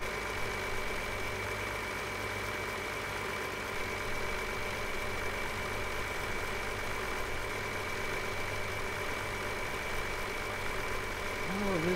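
A 1980s–90s era tractor engine idles steadily in Farming Simulator 17, a continuous, even drone with a fixed tonal hum, heard throughout at moderate level with faint talk in the background.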